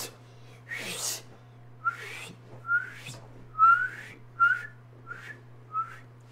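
A sports fan watching a Cowboys versus Browns NFL game tries to whistle, producing a string of about eight short, breathy whistle bursts in uneven rhythm, close and fairly loud over a steady low hum.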